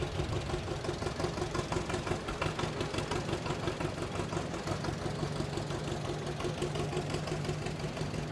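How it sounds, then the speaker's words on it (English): A 1936 John Deere tractor engine idles steadily during a small-town sesquicentennial parade, a continuous low rhythmic chugging and knocking throughout, moderately near with no voices. "driving a John Deere"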